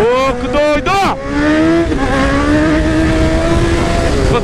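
A 2020 Honda CB1000 motorcycle accelerating hard with traction control on, its engine note climbing steeply through the gears in loud, rising sweeps, a brief dip at each shift; close and continuous, with a voice speaking over the start.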